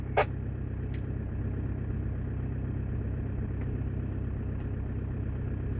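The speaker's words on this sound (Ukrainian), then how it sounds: "Я завів машину, ніяких шумів посторонніх не появилося." A steady, low idling hum from an Opel Signum car engine with the bonnet open, heard from outside the car, continuous and even, with a couple of faint brief clicks near the start.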